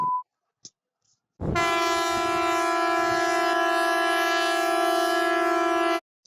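Norwegian emergency alert siren with a steady, loud multi-tone blare like a train horn, sounding alone for about four and a half seconds after a few brief electronic beeps, then cutting off abruptly.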